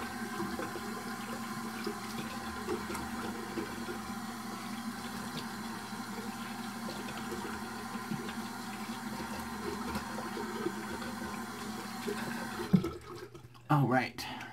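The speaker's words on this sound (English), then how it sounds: "I almost forgot the cold water rinse." Cold tap water runs in a steady, continuous stream for a rinse and then cuts off near the end with a few clunks and handling noises. A voice speaks briefly under the flow.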